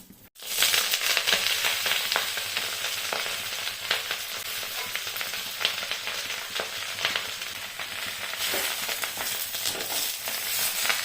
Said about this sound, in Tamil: முருங்கைக்கீரை ரெண்டு கைப்பிடி அளவு எடுத்து வச்சுருக்கேங்க இதை நம்ம இந்த ஆயில் விட்டு பொரித்து எடுத்துக்கலாம்